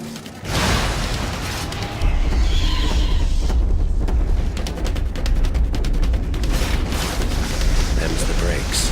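A chopper's gas tank explodes in the video game InFamous with a loud, sustained blast and a roaring, crackling rumble that fills most of the clip, with bursts of debris throughout.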